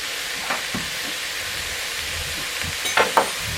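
Vegetables for minestrone soup sizzle softly in a pot while being stirred, with a couple of scraping clunks from the spoon near the end. No one speaks.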